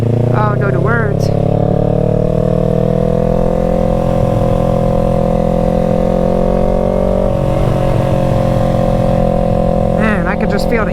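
Motorcycle engine droning steadily and loud throughout a night ride, a constant low rumble with brief voices rising over it near the start and end.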